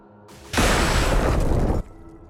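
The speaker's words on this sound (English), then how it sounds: "Explosion hit." An explosion in the strategy game Xenonauts bursts suddenly as one loud, sustained roar and rumble that lasts over a second, then cuts off, leaving quiet background.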